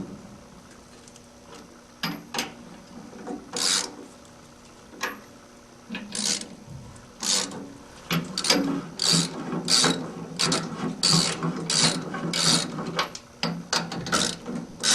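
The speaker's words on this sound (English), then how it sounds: "Torque the bolts evenly in a cross pattern to force the trunnion from the frame." A ratchet wrench torques bolts evenly in a cross pattern to push the trunnion out of a hardmount washer frame, giving close bursts of sharp clicking that start sparse, then come in quicker, steadier runs with brief pauses.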